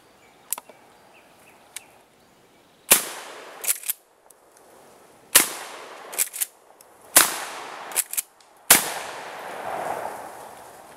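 Several 12 gauge shotgun blasts with 00 buckshot loads, low recoil and regular field loads among them, boom out one after another at close range, each sharp report trailing off with a brief echo and spaced a couple of seconds apart.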